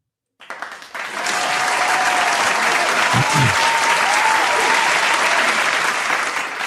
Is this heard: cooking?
no